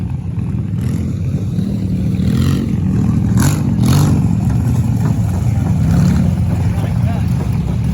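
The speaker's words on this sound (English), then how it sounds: "there's more cars rolling in the back" Engines of demolition derby cars rumble low and steady as they roll into a county derby pit area, with some revving and clatter, while people talk nearby.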